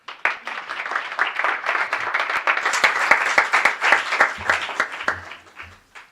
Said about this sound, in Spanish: Por favor, un aplauso para Irene Díaz Lázaro.